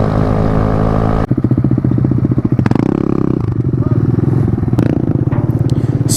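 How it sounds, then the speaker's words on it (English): A mini motorcycle on loud, knobby-sounding tires rides past close by, its engine buzzing steadily with rhythmic harmonic pulses, a brief throttle surge midway, and clattering scrapes layered over the continuous drone. "Now I got the loud tire bike."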